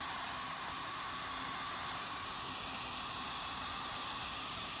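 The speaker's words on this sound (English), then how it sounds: "this is the kind of steam I'm talking about. You want to let vent for 10 minutes." Steam venting steadily from a pressure canner while canning greens, a continuous loud hiss with no break or change in level.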